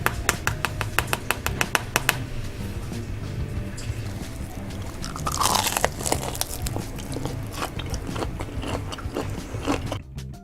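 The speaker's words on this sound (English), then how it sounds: "As you can hear, that batter had a nice crunchy exterior" Crunchy battered air-fried chicken wings being bitten and chewed up close: a rapid run of sharp crackling crunches at first, then denser munching and crinkling that continues until an abrupt stop.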